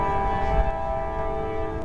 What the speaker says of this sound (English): an NS eastbound freight